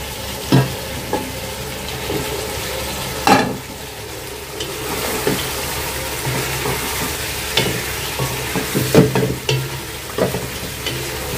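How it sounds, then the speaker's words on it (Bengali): Potatoes stir-fried into nearly cooked spicy chicken curry in a pan, a steady sizzle broken by sharp scrapes and clanks of a spatula every second or two, close and alone with no talking. "দিয়ে আলুটা দিয়ে একটু কষাবো"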